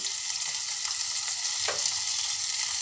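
Garlic and coconut paste fries in oil over cooked onion, a steady close hiss of sizzling with one brief clatter of a spoon in the middle.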